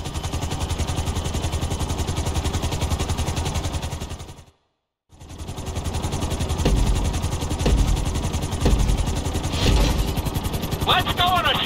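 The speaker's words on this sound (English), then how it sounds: "we're gonna put you in a helicopter for this lesson" A helicopter in GTA 5 during a flight-school lesson, its engine droning steadily and loud throughout, briefly cutting out mid-clip before resuming, with some clattering and higher whines toward the end and a voice talking over it.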